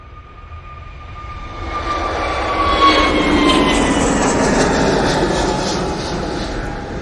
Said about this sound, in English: Jet 2 A321neo, now on the roll.